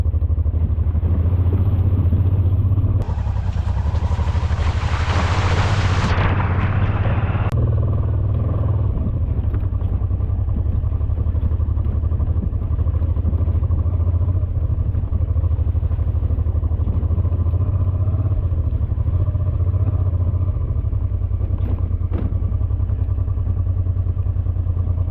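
A Honda XL700 motorcycle rides slowly along a rocky maintenance road of the Sturmbock line, its engine a steady close rumble with clattering from the stony surface and a brief louder rev early on, no talk.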